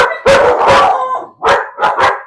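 Several dogs bark loudly and close by in rapid bursts, with howl-like tones mixed in. Two long barking outbursts are followed by a run of shorter barks. No one speaks.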